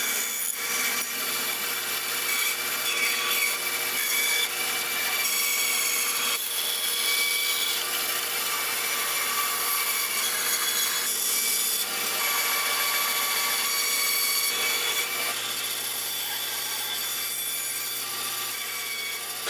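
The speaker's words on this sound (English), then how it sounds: "Then we're gonna cut it out with the bandsaw" A bandsaw cuts out a wooden spoon blank from the wood of an invasive tree. The blade whirs steadily and rasps through the wood for about twenty seconds, with slight changes in tone as the cut goes on and no talking.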